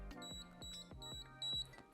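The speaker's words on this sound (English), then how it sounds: "4 beeps" A FireFly X-Lite action camera switching modes gives four evenly spaced, bright electronic beeps over a soft low hum, fairly quiet and close.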